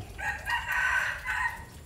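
A rooster crows from chickens kept across from a coconut garden, a drawn-out call rising and falling in two or three strained phrases at moderate distance, with no talk.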